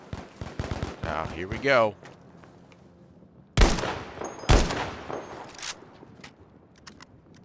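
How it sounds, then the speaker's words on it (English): Gunfire in Battlefield V Firestorm, with two sharp, loud close shots and scattered lighter shots. A short burst of rapid fire comes before them, and a voice talks briefly near the start. "Who's shooting me?"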